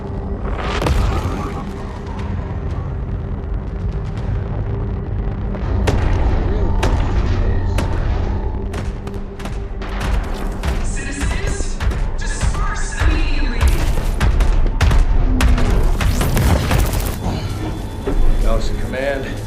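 Incoming weapons fire in MechWarrior 5: Clans, a loud, sustained barrage of booming impacts and sharp cracks stacked over one another, with a voice speaking beneath the battle din.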